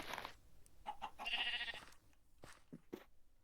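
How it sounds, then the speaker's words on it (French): Sheep in a video game bleat several times in short bursts, one longer wavering bleat in the middle and a few quick calls toward the end, faint and alone with no talk. "Alors, il faut faire monter les moutons."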